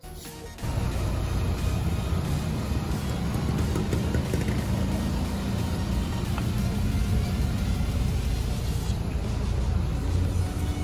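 A 2020 Hyundai Creta on a test drive gives a steady, continuous rumble of engine and road noise that holds at an even level for the whole stretch, with no talking.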